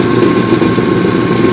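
A 1986 Ford Mustang GT V8 engine idles steadily and loudly up close, a constant even drone with no breaks or talk.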